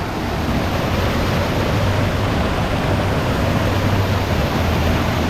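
Steady, dense rushing water roars without a break, like a waterfall pouring nearby, loud and continuous with no voices.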